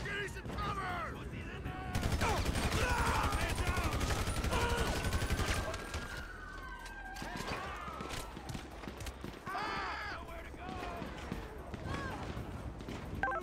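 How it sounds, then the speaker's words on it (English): Gunfire in the video game GTA 5: dense bursts of rapid automatic shots, loud and sustained at first, then scattered single cracks, with game sirens and someone talking over it. "You can hear some gunshots"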